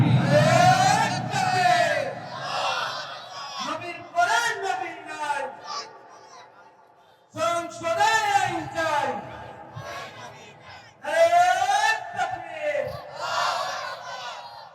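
A large crowd at a religious gathering roars back in unison after the takbir call, with long, loud rising shouts repeated in waves and a voice leading between them.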